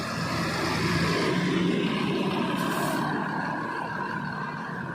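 Low, steady diesel engine rumble of a bus pulling out of a bus pool in Tasikmalaya, continuous and fairly close, with a brief hiss partway through.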